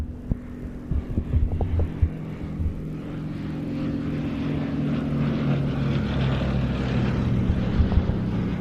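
A Westland Lysander propeller aircraft at an airshow drones with a throbbing low hum, a few sharp knocks early on, then a steadier, louder engine note that builds and holds.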